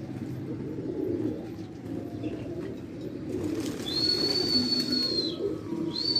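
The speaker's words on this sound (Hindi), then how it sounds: "कबूतर वहीं घूम रहे हैं" Pigeons milling around their roost give soft, low coos beneath a steady outdoor hum, with a brief thin whistle-like tone near the end and occasional flutters.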